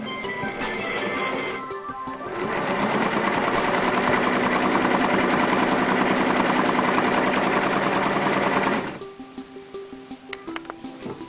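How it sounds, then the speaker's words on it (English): A Singer sewing machine, run by its foot pedal, stitches the side of a buttonhole in fabric. A steady, dense mechanical whir starts after a brief pause, runs loud and continuous for about six seconds, then stops. "Your foot pedal, apply power to stitch back up to the top mark."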